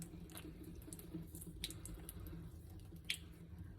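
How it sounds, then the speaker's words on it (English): Water trickles and splashes in small bursts while being poured onto skin during a skincare routine, a soft running stream with a few brighter drips, fairly close and with no talking. "I'll just put some water on it."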